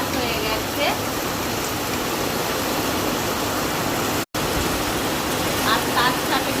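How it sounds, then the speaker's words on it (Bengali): Rain falls steadily in February, a constant even hiss of drops that fills the scene at a uniform level from start to finish. "আজকে দেখো বৃষ্টি স্টার্ট হয়ে গেছে।"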